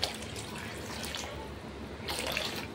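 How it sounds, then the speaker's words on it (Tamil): Water splashes and trickles steadily into a cooking pan of broad beans, with brief louder gushes at the start and near the end. "இப்போ தண்ணி ஊற்றணும்"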